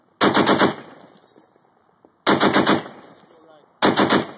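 A machine gun fires three loud, close bursts of rapid shots, each lasting about half a second, with short quiet gaps between them.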